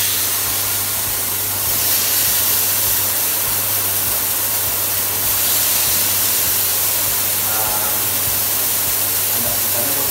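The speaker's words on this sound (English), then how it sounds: "Then also I'll be releasing a little bit of pressure from the steaming ones, just to check if my steaming ones" An espresso machine's steam wand vents pressure in a steady, loud, broadband hiss that lasts throughout, with slight surges around the middle, as a barista checks the wand is in working order.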